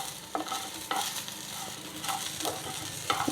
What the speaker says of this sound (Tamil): இப்போ இதில் கடலப்பருப்பு உளுத்தம் பருப்பு சேர்த்தாச்சு இது கொஞ்சம் வறுபடட்டும்